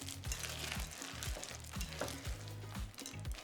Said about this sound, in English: I'm gonna stir this together.